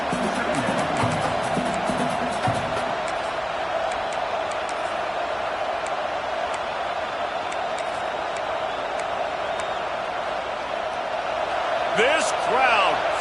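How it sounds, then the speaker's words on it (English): Stadium crowd at an LSU vs Alabama college football game, a sustained dense roar throughout, with a commentator's voice over it and a swell of cheering near the end. "This crowd, full throat, splitting the eardrums and letting them know it's going to be a long day"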